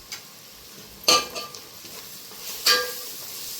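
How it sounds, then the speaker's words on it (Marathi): Soft tomatoes sautéing with turmeric and garam masala in a pan, a quiet sizzle broken by two sharp metallic spoon-against-pan scrapes, close and alone. "चांगलं परतून घ्यायचं आलं लसूण हिरवी मिरची"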